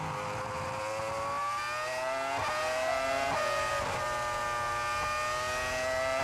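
A 2004 Ferrari Formula 1 car at the Australian Grand Prix coasts slowly past with its engine droning as a sustained, moderately distant whine that dips slightly at a few points.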